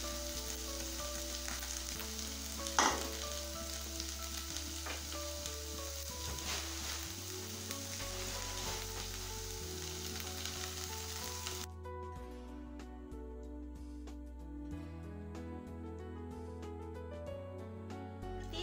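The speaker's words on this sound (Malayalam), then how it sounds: "ഇനി നമുക്കിതൊന്ന് ഒതുക്കിയിട്ട് പാത്രം അടച്ച് ചെറിയ തീയിൽ കുറച്ച് സമയം ഒന്ന് വേവിക്കാം." Ivy gourd (kovakka) stir-fry with turmeric powder cooks in a covered pan on low heat, a steady soft sizzle running underneath background music throughout.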